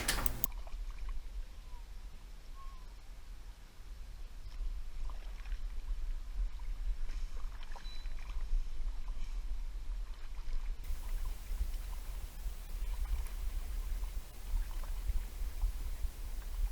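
Rowing a kayak across West Hill Pond in New Hartford, Connecticut: a steady, low watery wash with faint paddle strokes beneath a constant background hiss.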